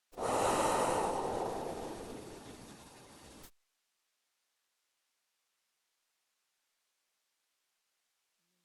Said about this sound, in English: take some deep breaths into your low back